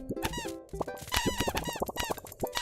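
Rapid, dense high-pitched squeaks and boings from cartoon penguins in the video game Dream Daddy, chattering continuously and close with no pauses.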